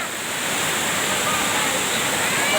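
Steady rushing water of a stream at a hill-station bathing spot where tourists swim, a dense, continuous broadband roar with no breaks, close and fairly loud.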